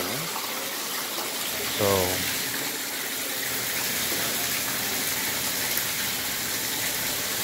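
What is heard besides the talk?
waterfall flowing into a koi pond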